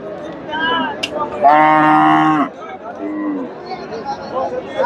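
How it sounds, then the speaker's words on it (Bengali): A crossbred cow moos loudly in one long, low call at a cattle market, with shorter lowing before and after amid faint crowd chatter. "এই যে ভাইয়ের কাছে একটা ক্রস বিটের গাভি দেখতেছি"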